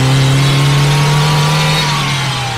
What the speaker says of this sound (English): you can hear the induction sound once I'm out of first gear going into second gear and opening the throttle